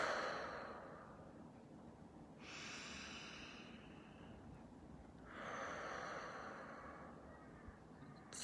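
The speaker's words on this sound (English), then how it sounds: "So let's release all blocks to moving forward with a deep breath in and out." A slow, deep breath is drawn in and then released in two soft, drawn-out breathy swells, faint and close against a quiet hiss.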